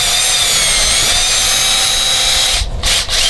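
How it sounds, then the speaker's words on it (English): An Allen wrench spun in a drill grinds steadily into foam inside a classic Boston Whaler Montauk hull, a loud close whirring rasp that holds for about two and a half seconds before stopping in short bursts. "I'm going to be using this Allen wrench to carve out some of the foam"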